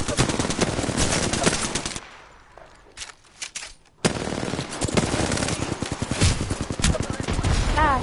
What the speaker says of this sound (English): I'm taking fire, friend.